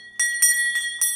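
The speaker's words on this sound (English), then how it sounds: "it was with these beautiful bells that are now manufactured right here in Middleville" A handbell made in Middleville, in New York's Mohawk Valley, rings in four bright, bell-like strikes with sustained overtones. The strikes come at a steady pace, each ringing on into the next, with no voices.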